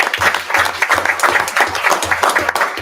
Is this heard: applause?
yes